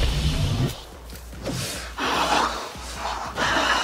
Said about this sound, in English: You're breathing a bit too loud.